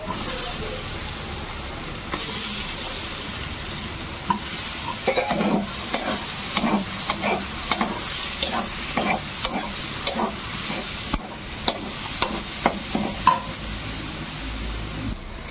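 Boiled soybean chunks with turmeric stir-frying in a pan, loud crackling sizzle with a rapid series of scraping stirs and utensil knocks through the middle and later part.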